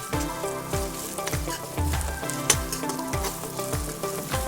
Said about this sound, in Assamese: এই আদা নহৰুখিনিও আমি ভালকৈ ভাজিম যেতিয়ালৈকে ইয়াৰ কেঁচা গোন্ধটো নাইকিয়া হৈ নাযায়।